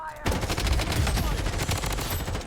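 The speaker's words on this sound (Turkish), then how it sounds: "biri bana sıkıyor" Gunfire in the battle royale shooter BloodStrike, a sudden loud burst of rapid shots starting after a brief quiet moment and continuing dense and close to the end.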